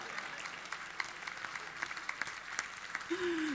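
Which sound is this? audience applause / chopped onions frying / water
audience applause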